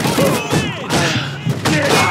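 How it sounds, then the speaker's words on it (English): Grenade blast during a Call of Duty 2 battle at D-Day, a dense burst of booming thuds amid gunfire and shouted voices. "Look out, grenade!"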